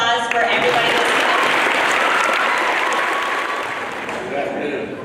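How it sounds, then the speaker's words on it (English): An audience at a school decision day ceremony breaks into loud, sustained applause, many hands clapping in a thick wash that holds steady and eases off slightly toward the end. "Can we do another round of applause for everybody listening?"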